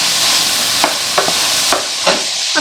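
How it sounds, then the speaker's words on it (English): Bell pepper and mushrooms sautéing in a pan over medium-high heat, a steady loud sizzle broken by several sharp scraping stirs of a utensil against the pan. "we'll just let everything saute down until it gets a little bit soft"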